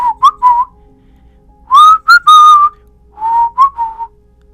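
A long, chilling whistle from a horror legend, heard as several separate phrases that rise, waver and fall, clear and fairly close with quiet gaps between them.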